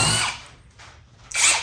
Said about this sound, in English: 2 screws that are 3-inch, and we're gonna just drill them straight down, see how fast we can get them down there, down into the wood.